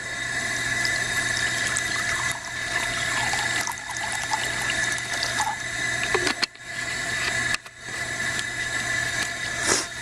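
Water runs in a steady, close stream, about five ounces measured out for a homemade jalapeño summer sausage on an off-grid homestead, a continuous hiss and splash with brief dips near the end.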